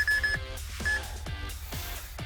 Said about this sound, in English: That beeping you hear is the GTAC camera activating.